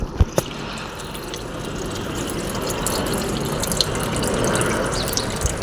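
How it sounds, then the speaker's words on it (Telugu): Water running from a tap near a house, a steady rushing flow that builds slightly, with a few sharp clicks and clanks at the start. "ఇంకండి నీళ్ళు కూడా వస్తున్నాయి."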